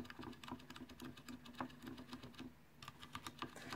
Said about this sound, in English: This is Cherry MX Clear. So with Cherry MX Clear, the actuation force required is 55 CNs.